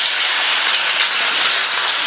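Cut tomatoes, a quarter kilo, hitting a teaspoon of hot oil over high flame give a loud, steady sizzling hiss that runs unbroken throughout, with no voice over it.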